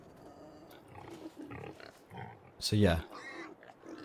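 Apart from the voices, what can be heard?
pigs grunting in video game Farming Simulator 22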